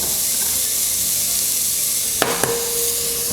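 Red onion sizzling steadily in a pan where lamb was just seared, a continuous broadband frying hiss with a couple of brief clicks and a faint stirring scrape partway through.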